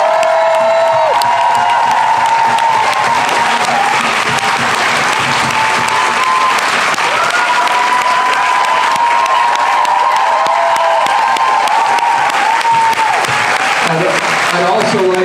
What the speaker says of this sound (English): Can we give a round of applause to all the staff of JIB?